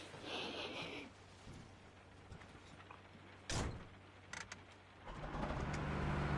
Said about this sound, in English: Let's run in front of the moving truck?